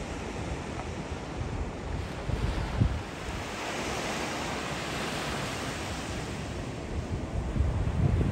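Ocean surf and wind at Matanzas Beach on Florida's Palm Coast: a steady broadband roar of waves washing in, with gusts buffeting the microphone, continuous and fairly close, no talk.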